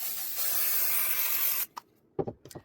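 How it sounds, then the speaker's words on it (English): A handheld spray bottle mists batting during a quilting project, giving a loud continuous hiss for about a second and a half that cuts off abruptly, followed by a few short quieter spritzes. "Going to spray."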